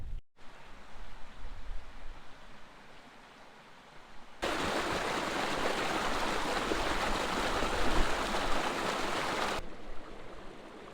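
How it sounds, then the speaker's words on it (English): A river flowing under a footbridge near a quarry on a winter camping trip, a steady close rushing of water that swells louder in the middle and then eases back, with no voices. "The river passing under the footbridge."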